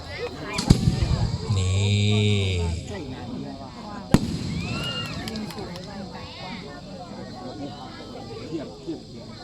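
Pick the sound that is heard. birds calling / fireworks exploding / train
fireworks exploding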